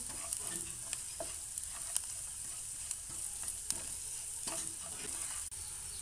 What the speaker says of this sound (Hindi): ये देखिए यहाँ पर मसाले अच्छे तरीके से भून चुके हैं